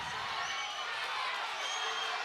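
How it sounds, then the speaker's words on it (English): A crowd cheering and calling out at an MMA bout, a steady roar of many voices at a moderate distance that holds for about two seconds with no clear individual speech. "The crowd's calling for it."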